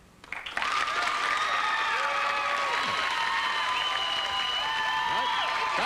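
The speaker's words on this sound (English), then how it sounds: "applaud if you think he's bluffing." Studio audience applause on a 1988 game show, bursting in after a brief pause and continuing as a steady, full wash of clapping with some cheering and whoops over it.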